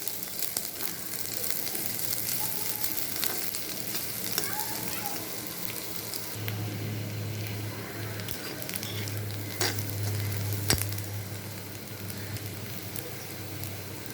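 Green chilies and onion frying in oil in a pan for a bitter gourd stir-fry, a steady close sizzle with occasional stirring clicks and scrapes, and a low hum joining partway through.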